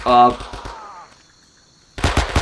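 Thompson submachine gun bursts in the Vietnam War video game Men of Valor: a short loud burst at the start beside a voice, a quiet stretch, then another sharp burst of rapid shots near the end.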